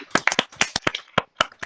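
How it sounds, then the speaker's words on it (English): A short burst of clapping from a small group of podcast hosts, about a dozen distinct sharp claps close to the microphone, irregular and brief. "if everyone could just give a short little applause for Franco"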